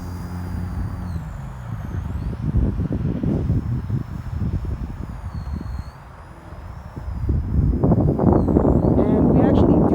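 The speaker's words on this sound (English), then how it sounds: "we actually do have around like 10 mile per hour wind" Wind gusts buffet the microphone outdoors around a Blade nano S2 RC helicopter doing negative-pitch 3D stunts, a steady rushing noise with a high whining rotor tone sweeping above it, strengthening toward the end.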